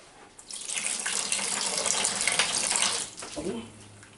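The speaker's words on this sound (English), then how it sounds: "that'll get the cider flowing" Homemade apple cider gushing through a new siphon pipe, a steady close splashing pour that starts abruptly, runs for about three seconds, then trails off into a brief gurgle.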